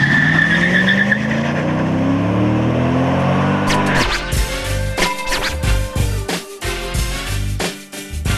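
A Corvette C6 sports car drives hard; a rising engine drone gives way to loud, choppy tyre skidding and squeal with sharp bursts of engine noise, close and without talk.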